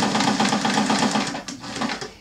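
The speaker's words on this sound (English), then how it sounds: "So now I'm going to keep stitching." A sewing machine stitches satin blanket binding onto a quilt in one continuous close run of rapid, even needle strokes, then slows and trails off near the end. No one speaks.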